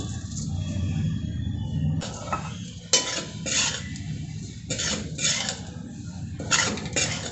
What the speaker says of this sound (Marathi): याच्यामध्ये जी आपली खारीक पावडर आहे ना तुपामध्ये आपण परतून घेऊ